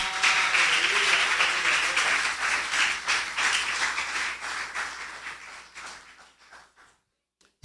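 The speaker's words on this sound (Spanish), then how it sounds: "Dele un aplauso al Señor." Congregation applause at a church service following a sermon, a dense, sustained wash of clapping that holds steady for about six seconds and then thins out and fades to silence.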